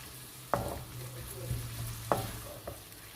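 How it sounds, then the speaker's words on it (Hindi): Masala for maash and chana dal roasting in a pan, with two sharp spoon scrapes and a lighter tap against a low steady sizzle, fairly quiet and close. "इस मसाले को हमने भूनना है अब"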